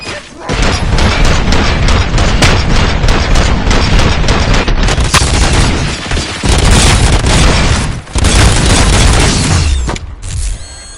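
Police officers firing at will let loose a relentless, loud barrage of gunfire lasting many seconds, with dense overlapping shots and booms and only brief pauses near the end.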